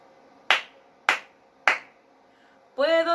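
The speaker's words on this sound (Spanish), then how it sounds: "Puedo aplaudir." Three sharp, evenly spaced hand claps ring out alone in a quiet room, a children's body-sounds activity, before a voice starts singing.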